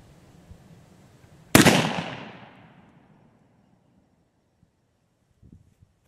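A Lyman Plains .54 caliber black powder pistol fires a round ball over a chronograph. There is one sharp, loud report with a long fading tail, set in near silence before and after.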